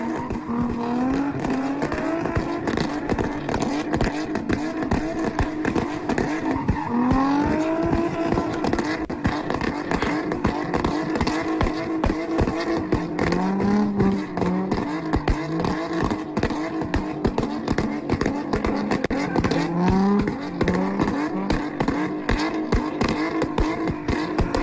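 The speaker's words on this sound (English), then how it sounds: "We got a 350 doing donuts around an Infiniti." Chevrolet 350-powered car doing burnout donuts around an Infiniti, engine revving hard in repeated swells with continuous loud tire squeal and screeching throughout, close and sustained.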